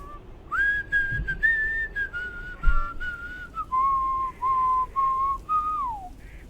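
A man's clear, steady whistled melody in a video game, with sustained notes that step downward over several seconds, close and prominent above quiet background noise.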